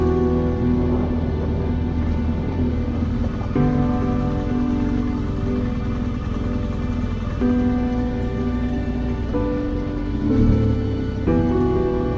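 Rain falling during a car ride on a road in Colombia, a steady hiss and patter heard from inside the vehicle over the continuous low rumble of the car, loud and close throughout.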